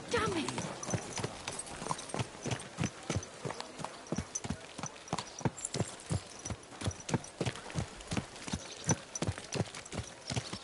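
Horse hooves clip-clop steadily at a walking pace while riding in the Kingdom Come Deliverance video game, an even, rhythmic beat of soft thuds throughout.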